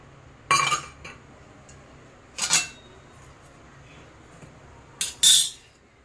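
A metal spoon clinks against a pan three times while ghee goes in for sabudana khichdi, sharp separate ringing taps spaced a couple of seconds apart over a quiet kitchen background.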